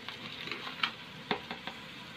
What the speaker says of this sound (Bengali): ভালো করে চালটা ভেজে নেব তেলের উপরে